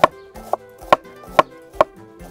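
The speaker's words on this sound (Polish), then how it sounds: "Liście oderwę i pokroję w cieniutkie paseczki." A knife cuts red cabbage leaves into thin strips on a board, with five crisp, evenly spaced chops close up and nothing else in between.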